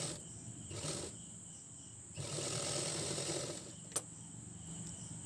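A sewing machine stitching a blouse runs in short bursts, a faint fast whirring with pauses and one sharp click.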